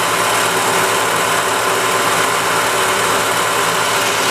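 A car engine in a repair shop, revved to about 4,000 RPM with the camshaft turning at 2,000 RPM, gives a loud, dense, steady roar that holds without letting up.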